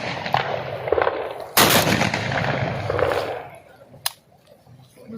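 Gunfire during a police raid on hiding bandits: one loud burst of shots with ringing echo, then a single sharper crack a few seconds later, heard over steady background noise and voices talking nearby.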